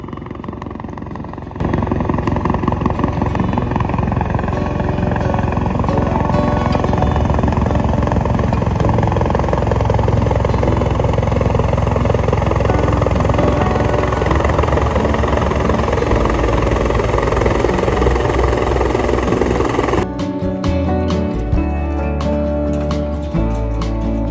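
A loud helicopter, arriving at a remote British Columbia work site, roars steadily with dense rotor chop and engine whine, then cuts off abruptly, leaving rattling mechanical noise.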